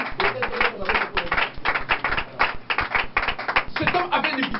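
A church congregation claps and cheers in praise during a French-language evangelical gospel service, dense rhythmic applause filling the space with voices mixed in.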